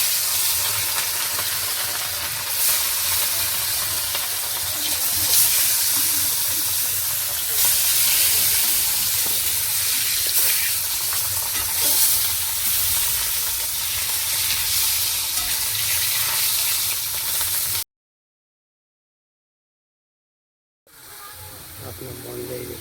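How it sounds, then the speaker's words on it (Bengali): Fish frying in hot oil, a loud steady sizzle and hiss for about eighteen seconds, then a brief break in sound before the frying resumes. "তেল গরম হয়ে গেছে, মাছ তুলে দিচ্ছি। মাছটা ভেজে নেব ভালো করে"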